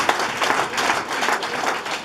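A church congregation claps hands steadily and loudly together in praise, a dense continuous wash of applause filling the whole moment with no voices standing out.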